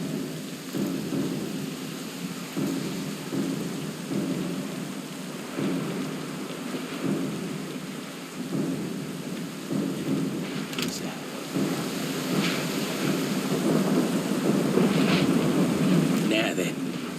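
Thunderstorm ambience from the Pillars of Eternity 2 video game: steady rain and rolling thunder that swells louder toward the end, with a voice speaking faintly under the storm.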